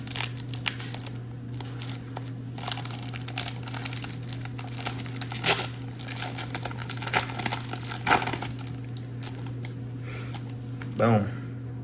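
Crinkling plastic wrapper of a sports trading card pack being torn open and handled, close and fairly soft, with a steady hum underneath and a voice briefly near the end.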